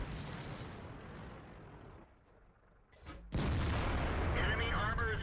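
In World of Tanks, a British FV215b tank cannon lands a hit and another heavy blast follows. A loud rumbling explosion decays over two seconds into a quieter lull, then a second sharp, powerful report erupts and rings on.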